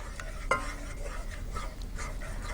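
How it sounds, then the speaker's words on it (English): Tuna stirred into a sauce in a pan, quiet scraping and soft sloshing with a faint clink of utensil on pan, under a gentle sizzle. "Keep stirring so it doesn't go all lumpy."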